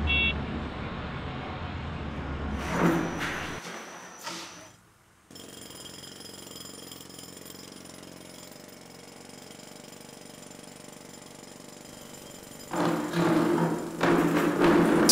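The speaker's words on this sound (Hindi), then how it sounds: "यहाँ घर में थोड़ा कंस्ट्रक्शन का काम चल रहा है।" A jackhammer pounds away in continuous bursts during construction work inside a house, loud and steady, cutting out for a moment and then resuming with a harsher, louder rattle near the end.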